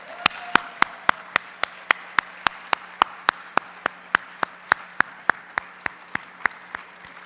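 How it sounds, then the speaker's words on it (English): Clapping in tribute to Jeff Atwater at a Florida Commission on the Status of Women event, heard as single sharp claps close by, falling in a steady, evenly spaced rhythm. "I want to give a round of applause to Jeff Atwater."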